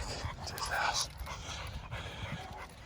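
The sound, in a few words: dog panting and whimpering, rescued pit bull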